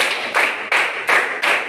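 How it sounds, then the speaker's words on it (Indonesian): A group claps in unison five times, evenly spaced sharp claps in a steady rhythm, fairly loud and close with no speech between them. "tepuk 5 kali"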